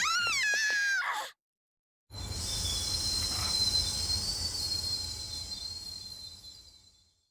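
Runaway train rushing along in the video game Persona 3, a loud sustained roar with rumbling low end and a high metallic screech that swells and holds after a short break of silence, following a brief burst of voice.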